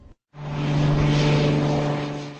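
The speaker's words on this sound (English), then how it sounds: "We were randomly taking pictures of airplanes taking off and focused in on this single-engine 4-seat Beach Bonanza." Single-engine four-seat Beech Bonanza airplane taking off, a loud steady propeller drone with a strong low hum that starts abruptly after a brief gap and holds throughout.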